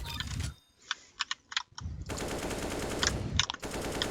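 AK rifle in CS:GO firing several short automatic bursts, with sharp rapid shots separated by brief pauses and sustained rattling fire in the second half, loud and close.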